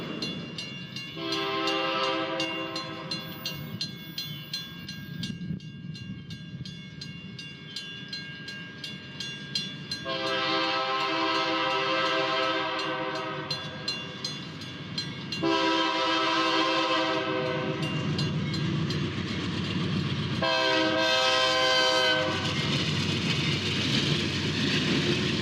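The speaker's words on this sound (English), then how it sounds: "Let's return to the present and follow some trains on the old Santa Fe east through town." Santa Fe freight trains rumble through a residential stretch of Galesburg with a continuous heavy roar, the multi-tone diesel horn sounding in several long blasts over the passing cars.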